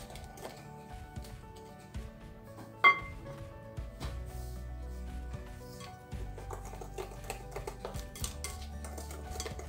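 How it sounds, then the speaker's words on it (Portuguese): Cake batter being mixed while flour is added gradually, for a banana and guava paste cuca: quiet scraping and clinking of a utensil against the bowl, with one sharper knock partway through and no speech. "Agora eu vou botar aos poucos a farinha e vou mexendo."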